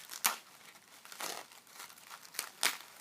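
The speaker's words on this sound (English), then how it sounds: "take this extra tissue paper off of the edge" Thin craft tissue paper is torn away from an edge in several quick, soft crinkling rips, close up and quiet, with short pauses between pulls and no voices.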